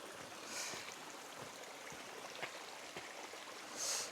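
A forest stream on an easy hill hike near Munich flows steadily in a soft, continuous wash, fairly quiet and alone with no voices.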